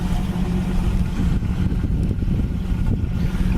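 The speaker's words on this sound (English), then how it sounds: "It's got single exhaust. The exhaust sounds good." A 1965 Ford Mustang convertible with a single exhaust runs steadily nearby, a continuous low engine rumble with no talk over it.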